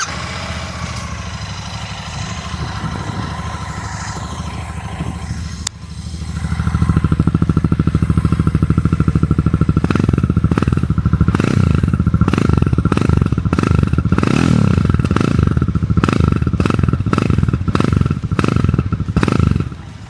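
A Royal Enfield Classic 650 twin-cylinder motorcycle engine idles with a soft rumble, then roars to life and runs loudly with steady throbbing pulses and repeated throttle revs.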